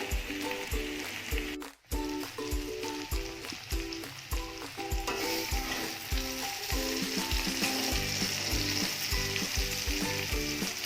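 Sliced bitter gourd and potato frying crisp in oil on a high gas flame, a loud, close, continuous sizzle with regular scraping stirs of a spatula against the pan.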